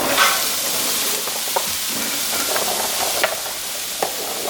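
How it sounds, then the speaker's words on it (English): Zucchini goes into a hot pan already holding ginger and pepper, giving a dense, steady hiss of frying with a few light stirring knocks, close and without talk. The pan is oil-free. "I'm just gonna put the zucchini in now"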